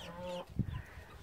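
A Maran chicken gives a short run of soft clucks, close by, in a quiet setting with a faint higher bird call at the start.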